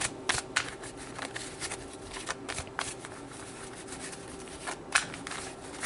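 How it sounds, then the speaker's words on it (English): Tarot cards are shuffled by hand in a steady run of quick, close riffling bursts that repeat throughout with no talking. "So let's pull some tarot cards."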